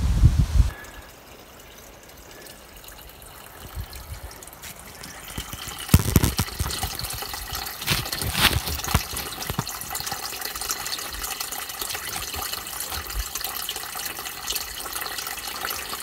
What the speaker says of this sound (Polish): I ta woda wypływa sobie tutaj.